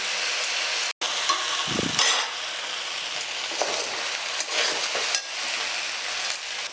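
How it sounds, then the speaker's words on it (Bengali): Rice, lentils and mixed vegetables sautéed in a pan for a Nabanna festival dish give a continuous moderate sizzle with scraping stir strokes, broken by a brief sharp dropout and a low thump early on. "চাল আর ডাল আর সব রকম সবজি বেশ ভালো করে সাঁতলানো হয়ে গেছে।"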